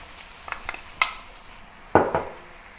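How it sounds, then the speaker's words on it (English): Shrimp stir-fried on a stovetop with garlic, scallion whites and sauce, giving a few short scraping stirs and a brief burst of sizzle from the pan, close and moderately loud. "let me return the remaining shrimp, switch on the stove and return the garlic and the white section of the scallion together with the sauce"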